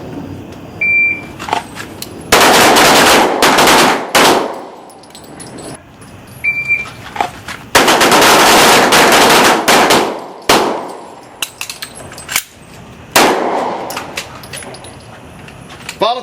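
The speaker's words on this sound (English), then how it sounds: "3 shots from the holster." Handgun shots fired in short strings straight from the holster on an outdoor combat pistol course, loud sharp cracks grouped in tight clusters separated by pauses.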